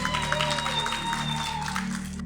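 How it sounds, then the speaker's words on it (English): Steady applause from an audience at an Eid lunch gathering fills a hall, a dense patter of many hands continuing evenly before fading away at the end. "Let's give Miss Maureen and Miss Rubina a big round of applause"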